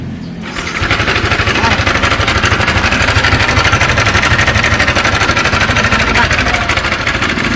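A Yamaha Sniper 155 motorcycle engine with a check-engine fault and poor maintenance starts up after a brief pause, then runs steadily and loudly close by with a rough, rapid rhythmic putter.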